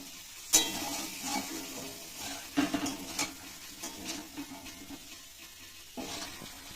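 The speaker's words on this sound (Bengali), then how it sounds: "তলায় যাতে লেগে না যায় একটু জল দিলাম, দিয়ে আর কিছুক্ষণ একটু কষাবো।" Potato dum masala is stirred in a pan with a little water, soft scraping and intermittent sizzling bursts over a quiet background, no talking.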